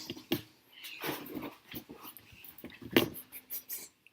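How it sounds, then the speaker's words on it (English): A dog caught in a corner whimpers and growls close by, giving a few sharp yips and whines with low grumbles between them. No one speaks. "My dog was having some issues."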